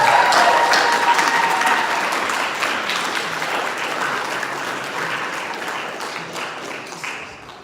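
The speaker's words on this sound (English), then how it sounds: "So can we please have a round of applause for that?" Wedding reception guests give a round of applause, a dense, steady crowd clapping that starts loud and slowly tapers off over several seconds.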